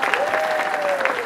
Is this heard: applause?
yes